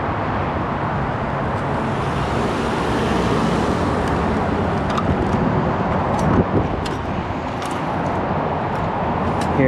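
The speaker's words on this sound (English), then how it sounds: "I've reached the freeway" Steady, dense roar of freeway traffic on the San Gabriel freeway in Los Angeles, heard close and continuous with cars whooshing past and no voices.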